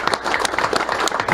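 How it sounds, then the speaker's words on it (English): An audience applauds a tribute to the ladies of the Alabama Gang at a Talladega gathering, a dense burst of hand clapping from a crowd that stays steady and fairly close. "I just want to make sure we give them a round of applause"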